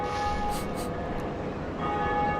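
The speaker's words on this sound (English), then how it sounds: "somebody's ringing that bell, making progress" In Dark Souls, a large bell rings with a sustained metallic tone, heard as steady and moderately distant under a dense game ambience, with a few brief brighter strikes near the start.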